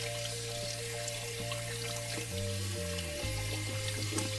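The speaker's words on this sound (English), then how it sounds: "now you're going to turn the hot water on, get that soap going, and wash up them greasy old dirty hands" Hot tap water runs steadily into a sink while hands are washed with soap, a constant rushing wash under a loud steady background tone.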